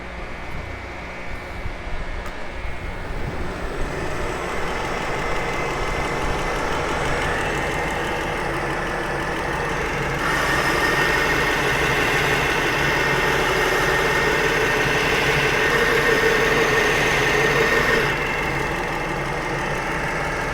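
A belt grinder with a medium conditioning belt runs continuously while it cleans scratches from an axe head. A steady motor hum brightens into a harsher, louder grinding rasp partway through, then eases back near the end.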